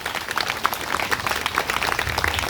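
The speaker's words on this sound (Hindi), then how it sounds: "सब ताली बजाएंगे यीशु मसीह के लिए" A church congregation at a Hindi sermon claps together for Jesus Christ, a steady patter of many hands filling the room, moderately loud, with no voices on top.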